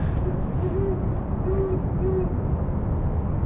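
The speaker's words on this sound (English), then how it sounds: "we just heard an owl" An owl hoots three times, faint and distant, over steady loud background rumble near an outdoor skating area.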